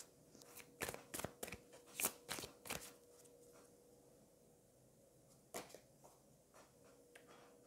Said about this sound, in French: allez, je vais vous prendre une carte.